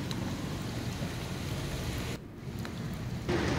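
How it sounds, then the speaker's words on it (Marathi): Steady, dense monsoon rain in Vasai-Virar fills the whole stretch, a continuous broadband wash with a brief dip before it returns slightly louder. "अजूनही पावसाची संततधार या ठिकाणी कायम आहे।"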